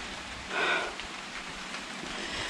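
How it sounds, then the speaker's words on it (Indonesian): Steady rain falls outside Goa Langsih cave, a continuous even hiss of drops heard from nearby, with a brief louder splash early on and no voices. "Dan kembali lagi hujan"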